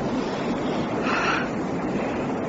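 A waterfall sound effect in a radio drama, a steady, loud rushing wash of falling water that fills the whole stretch with no voices.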